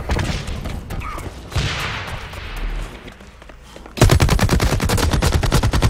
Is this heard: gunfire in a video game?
yes